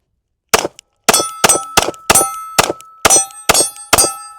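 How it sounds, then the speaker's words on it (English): Glock 45 Gen 6 pistol rounds strike a steel target, giving eight sharp, ringing metallic clangs in a quick, slightly uneven rhythm, each with a short decaying ring. "I have just figured out where to put the dot to make it hit the steel."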